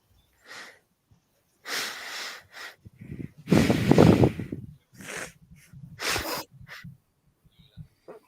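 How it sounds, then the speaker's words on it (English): Several short nasal sniffles and snorts from a runny nose, spaced irregularly across a few seconds with quiet gaps between, close to the microphone. "it was just kind of sniffle there"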